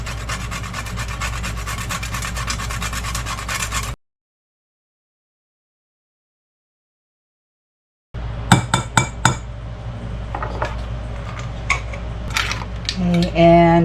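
Whole nutmeg rasped against a grater for sausage spice, a steady scraping for a few seconds, then a pause and a return of rubbing mixed with light clinks of utensils and tableware nearby.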